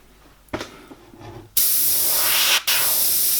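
Airbrush spraying paint onto an owl painting: a short hiss early, then a loud continuous spray burst, a brief cutoff, and the spray resuming right away.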